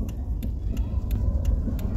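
A car creeping and turning during a driving lesson, its engine a steady low rumble close by with faint ticking overhead, alone without talk.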